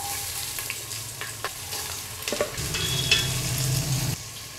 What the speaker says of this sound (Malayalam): ഇനി എണ്ണത്തിന് 2 സവാള അരിഞ്ഞത് വഴറ്റിയെടുക്കാം.